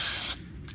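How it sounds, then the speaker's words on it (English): A loud, hissing aerosol blast of cleaner sprayed into a carburetor lasts about a third of a second, then a quieter low rumble with a faint second hiss. "Spray in here where it was seated."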